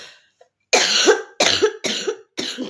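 A person ill with fever coughs in four harsh, close bursts, the first a long racking cough and the rest shorter, with brief silences between them.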